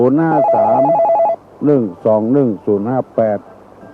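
A telephone rings into a Thai call-in radio programme, a steady electronic tone sounding for about a second beneath a voice, followed by several short bursts of close talk.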